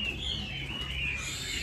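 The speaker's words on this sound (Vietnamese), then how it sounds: "một em chim chân vàng mỏ vàng" A male hwamei songbird with yellow legs and a yellow beak calls, thin high whistling notes drawn out over a low steady background hum.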